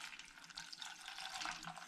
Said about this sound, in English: I'm going to add into my tea bags and hops some spring water